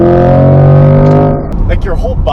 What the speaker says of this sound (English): Full to the floor throttle.